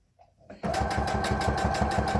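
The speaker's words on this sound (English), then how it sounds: "Alright, sewing this part here." A sewing machine starts up after a soft rustle and runs at a steady, rapid rhythmic chatter, stitching floppy face mask fabric, close and continuous.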